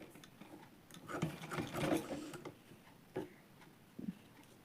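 Sewing machine running in short bursts while stitching a folded hem on slightly stretchy jeans denim, a close, busy whir with irregular pauses and a couple of brief clicks near the end.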